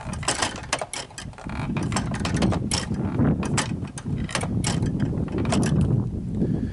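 Snow blower's forward and reverse gear lever being shifted, producing a continuous run of close mechanical clicks and ratcheting clunks throughout, with no talking.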